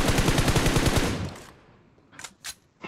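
Rapid automatic gunfire in the Free Fire video game, a dense burst of shots for over a second that then fades, followed by a few scattered single shots.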